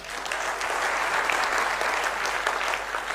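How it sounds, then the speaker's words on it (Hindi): A crowd at a company meeting breaks into steady applause, a continuous, moderately distant patter of many hands with no talking. "ताली बजना चाहिए"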